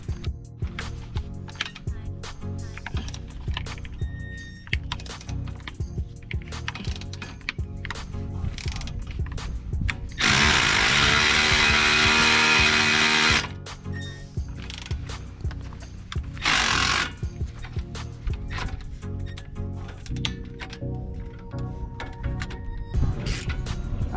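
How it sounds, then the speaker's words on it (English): Rapid ratcheting and clanking as the bottom strut bolts come off a 2011 GMC truck being lowered, close and busy, with a sustained burst of power-tool whirring midway and no talking. "so right now we are taking off the bottom shock bolts"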